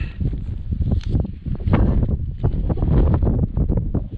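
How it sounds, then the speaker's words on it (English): Strong gusty wind buffets the microphone on an exposed hillside during an outdoor rockhounding trip, loud low rumbling surges rising and falling in waves with no voices. "this wind is pretty bad"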